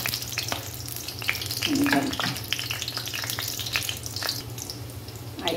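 Halved eggplant fries in a pan, a continuous crackling sizzle with occasional stirring and scraping sounds, close and moderately loud, without talk.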